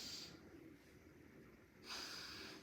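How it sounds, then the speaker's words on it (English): A person sniffs in sharply through the nose twice during a nurse's head-to-toe health assessment, short close breathy hisses separated by a quiet pause. "so go ahead and sniff in"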